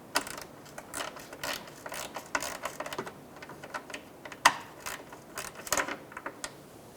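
A ratchet tightens the last bolt on a radiator being installed in a 2007-2015 Mazda CX-9. Bursts of rapid clicking come in short runs with brief pauses, up close and without talk.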